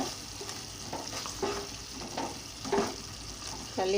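Mutton curry with chintachiguru (tender tamarind leaves) sizzling in a pan as a spoon stirs it in a few scraping strokes, close and fairly quiet.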